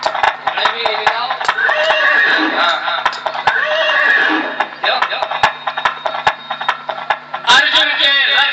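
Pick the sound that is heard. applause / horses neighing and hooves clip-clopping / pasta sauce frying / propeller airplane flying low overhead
horses neighing and hooves clip-clopping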